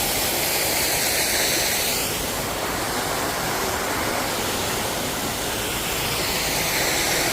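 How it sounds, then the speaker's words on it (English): A small stairway waterfall beside fountains in Funchal, Madeira, rushes and splashes in a steady, dense, loud hiss, heard from close underneath with no break or talk. "We're underneath the little stairway waterfall."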